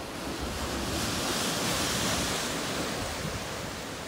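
Ocean waves at Glass Window, Eleuthera, a dense, continuous hiss of surf with a broad washing roar, swelling slightly midway, steady and close with no voices.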